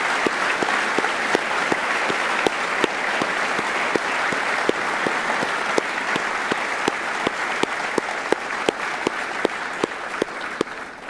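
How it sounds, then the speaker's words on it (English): A graduation ceremony audience applauds university staff in a large hall, dense sustained clapping from many hands with distinct sharp individual claps punctuating the steady wash throughout. "Graduates, you also please join me in a round of applause for all the staff at the university."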